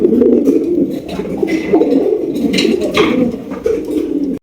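Pigeons coo continuously in low, throaty rolling calls, close and loud, with some faint rustling and higher chirps in the background; the birds include Pakistani Sundari and Gribask pigeons at a pigeon sale.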